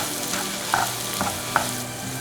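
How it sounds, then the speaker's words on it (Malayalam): Masala paste sautéed with browned onions in a pan for a restaurant-style egg roast, a steady sizzle broken by a few crisp scrapes and taps of the spoon against the pan. "ഈ സമയത്ത് നമ്മൾ മസാല പേസ്റ്റ് അതിലേക്ക് ചേർത്ത് കൊടുക്കാം. ഈ മസാലയുടെ പച്ചമണം പോകുന്നവരെ ഒന്ന് വഴറ്റിയെടുക്കാം"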